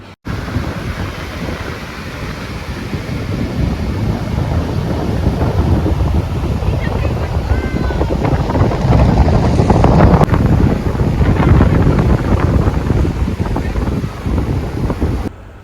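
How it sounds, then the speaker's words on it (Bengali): Loud, constant wind roars against the microphone at the seashore, with a faint wash of surf underneath, steady for the whole stretch. "সমুদ্রের ধারে এত হাওয়া হচ্ছিল"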